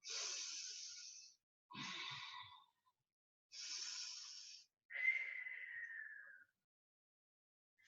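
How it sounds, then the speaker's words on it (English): Pigeon breath exercise: four long, soft exhalations out through the mouth, each a breathy hiss lasting about a second, the last sliding down in pitch like a coo, separated by short pauses in quiet surroundings. "breathing out through the mouth like the coo of the pigeon, hence why it's called the pigeon breath"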